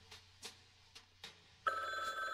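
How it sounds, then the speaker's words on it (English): A phone rings in a detective frog video game: four short separate rings, then a steady, louder electronic tone that holds to the end, with no voices. "Let's answer this phone."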